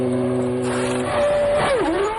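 A 1997 Ferrari Formula 1 car whines loudly as it leaves the pits, the engine pitch rising and then sweeping downward, heard under broadcast commentary.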